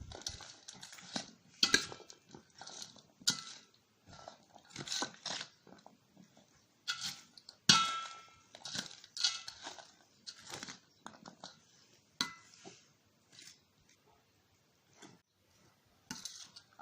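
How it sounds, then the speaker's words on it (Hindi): Chickpea chaat being mixed with boondi in a bowl, a spoon clinking and scraping against the dish in irregular bursts of tapping and rattling, close up with short pauses and no talk. "अब सब चीज़ को मिक्स कर लेंगे। इन सब चीज़ों को मिक्स कर लेंगे।"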